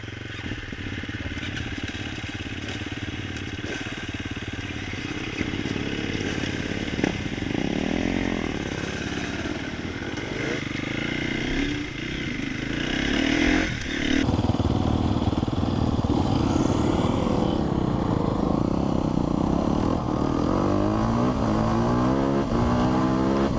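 A Sherco 300 SEF Factory 2024 four-stroke motorcycle engine runs steadily and close by, its drone rising in revs partway through, with a faint voice at times.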